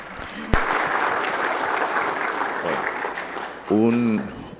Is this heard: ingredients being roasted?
no